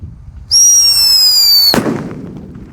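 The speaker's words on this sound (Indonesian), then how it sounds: "di sini ada Whistling Thunder yang dibuntel dengan kertas" A paper-wrapped Whistling Thunder firecracker shrieks with a loud, steady high whistle for about a second, then bursts in a sharp, heavy bang that trails off into a rumbling decay.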